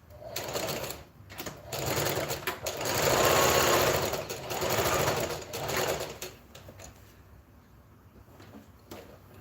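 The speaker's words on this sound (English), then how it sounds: "I'll sew two together like this" A sewing machine stitching two fabric pieces together for a gathered top, running in several bursts of rapid whirring stitches that rise and fall, then stop, leaving quieter handling noises near the end.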